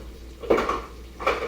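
A spoon scrapes and clinks against a pot as red beans are stirred, two quick strokes over a quiet background.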